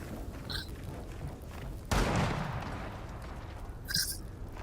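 A single loud, sharp gunshot blast from the video game Gears of War 4, with a short decaying rumble over quiet game ambience.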